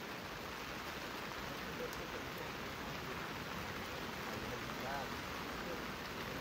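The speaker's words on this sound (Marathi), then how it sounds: "पाऊस पण चांगला आहे" Steady rain hisses evenly throughout beside a swollen river, a dense, unbroken wash of noise with no distinct drops or voices standing out.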